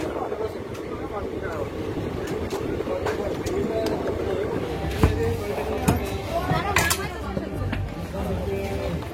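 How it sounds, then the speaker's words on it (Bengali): The Teesta Torsa Express pulls out of Salar station in Murshidabad, heard from on board as a continuous low rumble with wind buffeting and a few sharp clanks, moderately loud and unbroken. "বন্ধুরা ট্রেন বেরিয়ে গেল সালার থেকে মুর্শিদাবাদের"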